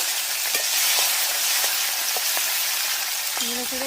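Ground spice paste frying in hot oil with chopped tomato and chilli for a spicy fish and potato curry, a loud, steady sizzle with scattered stirring clicks and a brief voice near the end.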